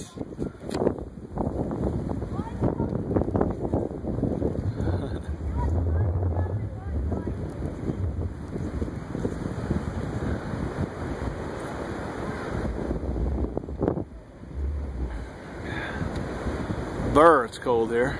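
Cold December wind blows steadily at a seaside sledding spot in Lanesville, Massachusetts, a loud, buffeting roar across the microphone that persists throughout, with excited voices shouting and talking over it.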